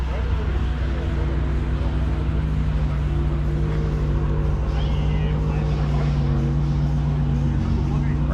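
A Ferrari F8 Tributo supercar drives in, its steady low engine drone loud and close throughout, with crowd chatter in the background.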